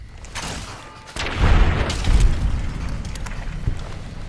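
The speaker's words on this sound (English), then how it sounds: "It's great for crippling things, the old grenade rifle." A grenade rifle round bursts in Fallout: New Vegas during the battle for Hoover Dam, a heavy booming blast with a rumbling tail that swells, then rolls on as lingering explosive noise.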